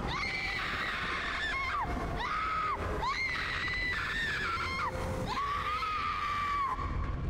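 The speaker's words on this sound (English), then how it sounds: "I made her scream for a long time." A female character screams repeatedly in the Resident Evil Village Shadows of Rose video game, several long, high, strained wails separated by brief gaps, loud over a noisy game background.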